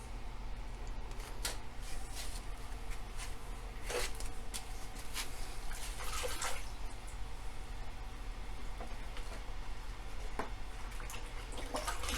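Loose, watery plaster mix pours into a dog mold, giving faint wet slops and sporadic soft splatters over a steady low hum of room noise.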